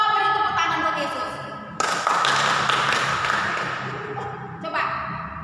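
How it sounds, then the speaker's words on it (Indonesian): Children clapping at a church Sunday school service. Music and voices play at first, then a loud, dense burst of clapping breaks in and gradually fades as the music returns. "Coba beri tepuk tangan buat Yesus."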